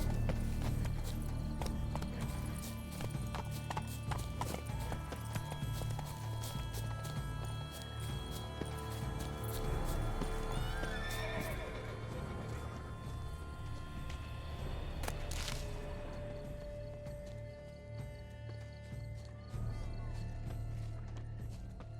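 Horse in The Witcher 3: Blood and Wine, with steady clip-clop of hooves over a constant low ambient bed, plus a brief whinny or snort partway through.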